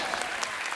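Studio audience applause on a Hindi comedy talk show, a short burst of dense clapping filling the space at moderate loudness with no voices over it.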